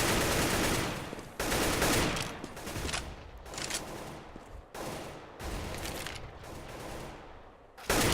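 Rapid bursts of AK rifle fire in a competitive Counter-Strike style match, loud and dense automatic volleys broken by short gaps, with no talk over them.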